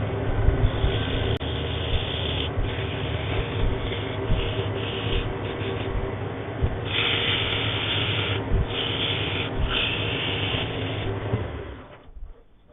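Sandpaper rubs against a turned wooden candle holder base spinning fast on a lathe, a continuous loud rough whooshing grind with slight surges in pressure, close up, fading away at the end.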